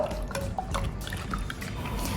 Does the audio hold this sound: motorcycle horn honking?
no